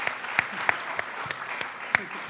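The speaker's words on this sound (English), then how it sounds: "I think that deserves a big round of applause" Applause from a panel audience at an education and technology event, a steady patter of clapping with sharper individual claps standing out, lasting the whole moment with no one speaking.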